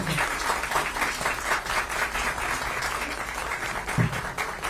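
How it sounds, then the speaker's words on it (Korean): An audience at a political party press event applauds warmly, steady close clapping filling the room at an even level with a brief thump partway through and no talking. "다시 한번 뜨거운 박수 부탁드립니다"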